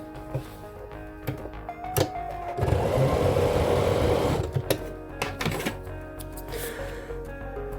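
A sewing machine stitches a 3/8 inch seam allowance on a fabric face mask piece, its steady whirring run swelling loud near the middle, bracketed by short bursts and clicks.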